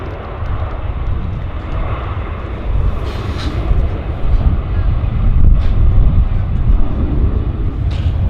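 An Air Canada airliner on the Narita service at Vancouver Airport produces a loud, continuous low engine rumble that swells slightly midway, with gusty wind buffeting the microphone.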